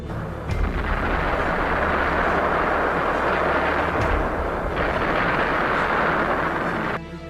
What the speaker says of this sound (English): German artillery thundered across the steppe, thousands of guns lighting up the horizon